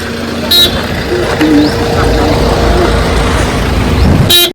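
A crowded temple parking lot in Tuljapur rumbles with steady traffic, and a couple of sharp car horns blare near the start and at the end, while a voice talks over the noise.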